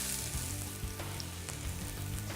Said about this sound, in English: Now I'm gonna go ahead and throw my onions in here.